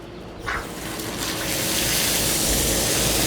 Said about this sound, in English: The sound of water does wonders for the soul